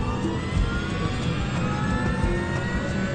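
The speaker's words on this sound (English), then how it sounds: "he records the sound of the engines from inside the cockpit" Jet engines heard from inside an aircraft cockpit during a flight-crash reconstruction produce a steady, loud, broadband roar with a faint rising whine. The sound holds continuously throughout, with no talk.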